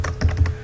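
A few quick keystrokes on a computer keyboard entering a web address, several distinct taps close together over a low steady hum.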